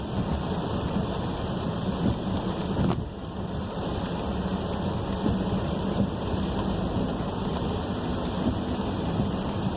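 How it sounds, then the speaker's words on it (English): Steady rain hisses and patters continuously on a VW Tiguan, a dense wash of drops with no voices. "the perfect test to show you guys how awesome the Tiguan is in the rain"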